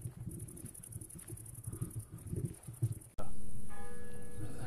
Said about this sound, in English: I think there's a bell there